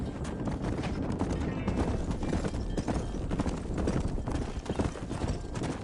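Horse hooves gallop in Red Dead Redemption, a steady rapid clip-clop running through the whole stretch amid game sound, with a voice talking over it.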